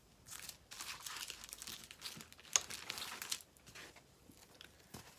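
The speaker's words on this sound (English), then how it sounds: "We now want to add the foam tape on the back." Foam tape is peeled and pressed onto the back of a handmade card: soft, close crinkling and tearing rustles with faint plastic crackles, quiet and irregular, with no talk.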